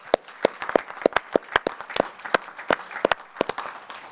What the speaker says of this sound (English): can we please have a round of applause for our panel?